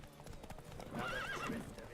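Horse hooves clip-clop in a steady galloping rhythm in the video game The Witcher 3, with a horse whinnying partway through against a busy game soundtrack.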